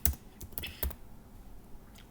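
Quick typing on a computer keyboard while text is entered into a PowerPoint slide, a handful of crisp close keystrokes in an uneven burst, then quieter taps with no talking.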